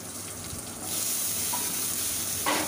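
Paneer and capsicum fry in a pan, a steady hiss of sizzling that grows louder after the first second and flares again briefly near the end, with no talk.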